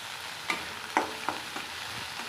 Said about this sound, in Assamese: সময়ৰ কাৰণে মই এয়া ভাজি আছোঁ।